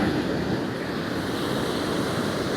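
Continuous surf surges onto a Holderness Coast beach, a thick steady roar of breaking waves mixed with gusty wind noise on the mic, close and loud with no voices.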